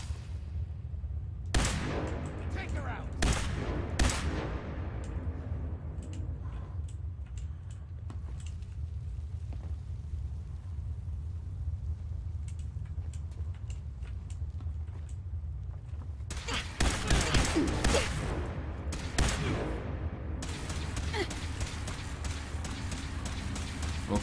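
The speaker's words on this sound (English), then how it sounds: "that's incendiary rounds" Gunfire from incendiary rounds in the Fallout 4 video game: scattered sharp bursts early on, a quieter stretch with faint clicks, then a louder cluster of rapid shots toward the end over a steady low rumble.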